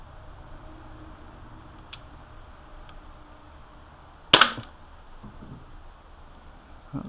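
An Umarex Walther P99 CO2 blowback airsoft pistol fires once at a target 20 feet away. It gives a single sharp, close pop with a short mechanical snap against a quiet indoor hum.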